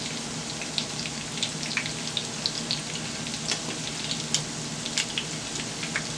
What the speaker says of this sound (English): I sprinkled some salt on mine before I started to fry it.